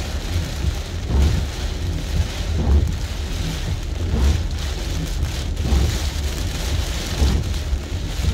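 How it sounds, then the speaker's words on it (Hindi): Heavy rain from Cyclone Shaheen in Muscat, Oman pours steadily as a dense, constant hiss, with low rumbling thunder and gusts of wind underneath, and no voices. "और बारिश जो है ना पानी की तरह ही आ रही है।"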